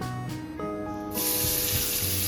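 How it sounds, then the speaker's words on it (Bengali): Pumpkin and onion hitting hot oil in a pan, a sudden loud sizzle that bursts in partway through and continues steadily. "একটু ডালের কড়াইতে আমি অল্প একটু তেল দিয়ে এই কুমড়োটা বসিয়ে দিচ্ছি"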